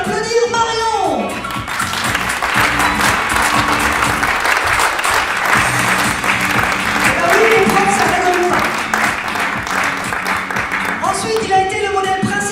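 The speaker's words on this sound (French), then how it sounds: "Je vous prie d'accueillir, d'applaudir Marion." A theatre audience applauds and cheers an improv performer as she is introduced at a French improvisational theatre show, a loud and steady wash of clapping lasting throughout, with a voice briefly heard at the start and end.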